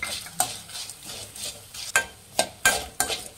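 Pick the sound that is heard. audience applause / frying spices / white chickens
frying spices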